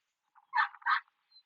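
A person imitates loud duck quacks during a retriever dog training throw, two short nasal honks in quick succession, heard alone and fairly faint against quiet surroundings.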